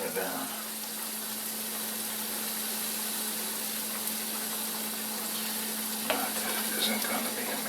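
Hamburger Helper with beef and noodles bubbling hard in a pan on the stove, a steady close hiss of simmering over a faint constant hum, with one brief clink near the end.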